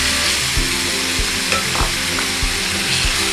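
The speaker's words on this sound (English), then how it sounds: "At this point, we will now be cooking the meat. Add 4 tablespoons of oil. Then add the beef mixture." Beef mixture for pizza topping sizzles steadily in four tablespoons of hot oil, a constant loud frying hiss broken by occasional soft knocks of stirring.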